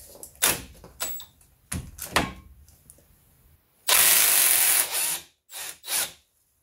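A ratchet fitted with an 18 mm socket loosens the brake caliper carrier bolts on a Trafic, Vivaro or Primastar van, with several sharp clicks and knocks first, then a long, loud buzzing run and two shorter bursts.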